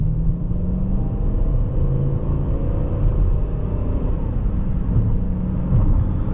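A 2005 Chrysler 300C with the 5.7L Hemi V8 pulling away from traffic, a steady deep engine rumble heard from inside the cabin, rising gently as it accelerates, with no talk over it.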